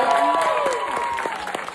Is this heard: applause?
yes